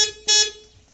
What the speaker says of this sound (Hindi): अहींया आपेलुं छे हॉर्न